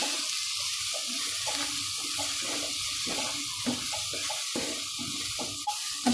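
Spice powders of coriander, chilli and chicken masala fry in hot oil in a pan, giving a steady, even sizzle that runs unbroken throughout, with soft stirring scrapes at regular intervals.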